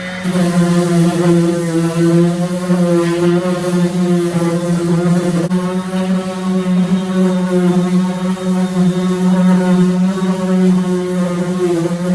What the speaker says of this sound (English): let's get one of these on here and do a little sanding